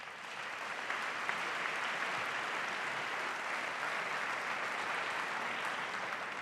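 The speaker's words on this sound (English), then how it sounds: "give yourself a round of applause" Audience applause fills a presidential debate hall at Washington University, a dense, steady wash of many hands clapping at moderate volume, continuous and without talk over it.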